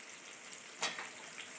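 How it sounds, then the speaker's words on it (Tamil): Onion and tomato sauté in a hot pan with a soft continuous sizzle, briefly louder in a short stir-like crackle midway, heard alone without talking. "வெங்காயம் நல்லா வதங்கட்டும்."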